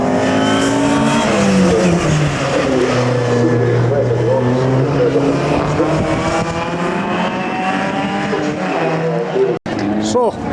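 Rally cars racing at the McRae Rally Challenge, engines revving and rising in pitch as they pass close, loud and continuous, with an abrupt cut near the end.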